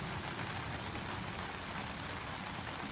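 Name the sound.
rain during a baseball game, plane overhead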